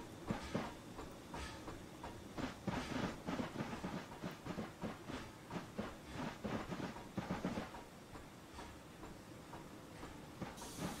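A model 2-6-0 Mogul steam locomotive runs with a clanky little motion, giving a steady series of rattling clicks and clacks at close range with no talking.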